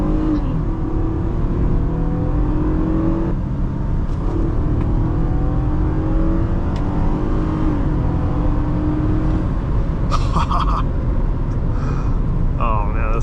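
A 2009 Toyota Camry XLE V6 accelerating hard from a standstill: a loud, close engine roar climbing in pitch through the revs, with a short dip and rise like a gear change, then a steady, strained pull.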